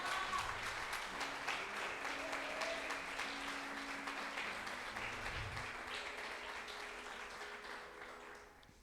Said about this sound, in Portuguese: Posso ouvir umas palmas para o nosso amado Senhor?